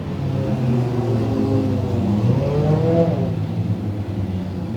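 An enduro race car drives down the front stretch of an oval track, with a rising and falling engine note and a steady rumble from the crowd and track, fairly loud with no talk.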